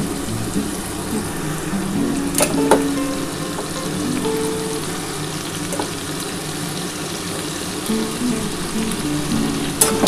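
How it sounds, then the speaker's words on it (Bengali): Mutton pieces sizzle steadily in oil and spice masala for a potato mutton kosha curry, a dense close frying hiss with occasional stirring scrapes and clinks, no talking. "মটনটা এই মশলাটার সাথে একটু আমি কষিয়ে নেবো"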